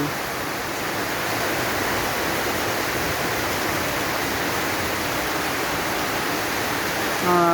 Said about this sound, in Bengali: দেখতে পাচ্ছেন অনেক বৃষ্টি, অনেক বৃষ্টি। এই বৃষ্টির মধ্যে দাঁড়িয়ে আছি।